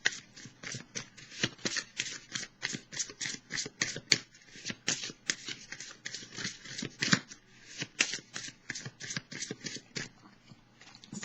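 Tarot cards shuffled by hand in a steady run of crisp riffling bursts, close and fairly quiet, with brief pauses between flurries and no talking.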